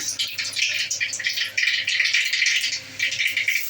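Black cumin (nigella) seeds crackling and popping in hot oil in a wok while water spinach is being fried, a dense, close, steady rattling sizzle with no voices.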